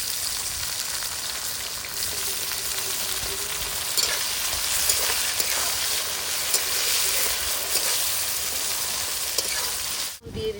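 Tomatoes added to onions, dried and green chillies frying in oil for a Bengali muri ghonto, a loud continuous sizzle and crackle up close, cutting off abruptly near the end.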